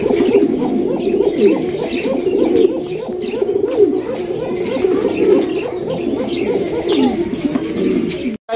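A flock of pigeons cooing loudly and continuously at close range, with rolling, overlapping calls and occasional chirps, lasting several seconds before stopping abruptly.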